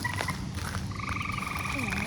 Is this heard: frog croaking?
yes